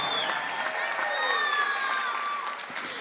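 Graduation commencement audience at a technical college applauding steadily for the graduates, a sustained wash of clapping with voices and a cheer or two mixed in throughout.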